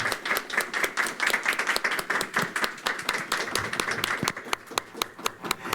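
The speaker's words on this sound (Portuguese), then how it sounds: "Uma salva de palmas para a coragem das duas." Two guests receive a round of applause from an audience, a loud, continuous patter of many hands with crisp individual claps throughout.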